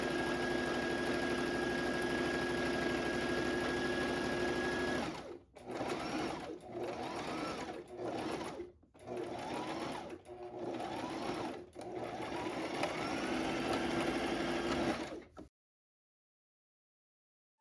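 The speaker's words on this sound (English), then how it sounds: "I'll let you listen to some like sewing" Sewing machine stitching fabric for a Rosalina beach coverup, a steady close mechanical whir running in several bursts separated by brief pauses, then stopping abruptly near the end.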